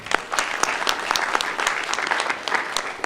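An audience gives steady, full applause at the 2023 Monroe County spelling bee for 7th and 8th graders, dense clapping sustained throughout with no talk over it.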